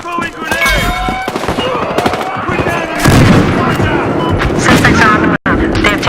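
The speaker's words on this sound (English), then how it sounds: "Throwing grenade!" An explosion and heavy gunfire fill a heist match in the video game Battlefield Hardline, with rapid rattling bursts and deep booms layered under shouted voices, loud and dense throughout.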